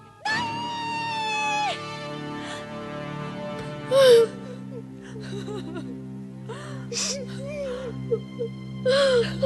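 An infant cries in a queen's chamber within a Hindi audio drama: thin, wailing sobs and gasps in short bursts, close and fairly loud, set over a low background music bed.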